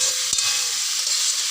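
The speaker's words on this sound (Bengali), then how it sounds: "তো আলুগুলো দিয়ে দিই, আলুগুলো ভাজা হোক" Chunks of potato fry in hot oil in a pan, giving a steady, bright sizzling hiss with one brief knock of a utensil, close and alone.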